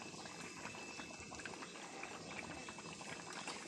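Rohu fish curry gravy bubbles softly in a pot, a constant close, low-level simmering burble with no pauses.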